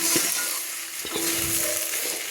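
Potatoes and onion stalks frying with poppy seeds in a pan, a steady close sizzle broken by a few short stirring scrapes.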